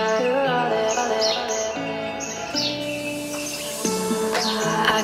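Birds chirping and singing at Gwalior Fort, several overlapping clear tonal calls repeating steadily over a few seconds, fairly close and prominent with no talk.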